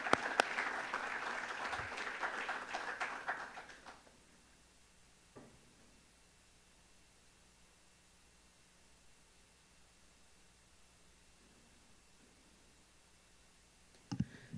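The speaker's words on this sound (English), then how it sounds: "Let's give the speakers a big round of applause and welcome Jennifer and Eric." Brief audience applause welcoming speakers at a community housing forum: a few seconds of moderate clapping that stops abruptly, followed by near silence with a couple of faint clicks.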